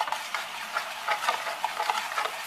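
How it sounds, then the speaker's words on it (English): Pancake batter with milk is stirred in a bowl, giving a continuous soft wet swishing with faint rhythmic scraping strokes, close and quiet, with no voices. "Okay, so we're gonna add our milk in. Mix first all the ingredients."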